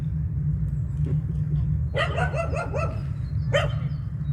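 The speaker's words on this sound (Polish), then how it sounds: "słyszę szczekanie psa" A dog barks several times in a quick burst, then once more after a pause, moderately close over a low steady rumble.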